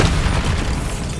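A single deep, loud Bombarda spell explosion from Hogwarts Legacy on PS5, a heavy rumbling boom that fills the moment and decays slowly.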